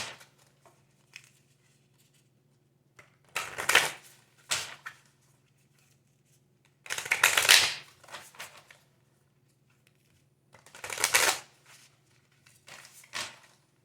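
Self-care tarot cards being shuffled by hand: a few separate brushing, riffling bursts, each lasting under a second, with quiet gaps between them, close and soft over a faint steady hum.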